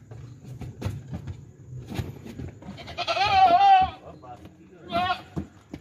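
Goat bleating loudly on a truck loading goats and sheep for transport near Sialkot, Pakistan, at night: a long wavering bleat followed by a shorter one, over low engine rumble and people talking in the background.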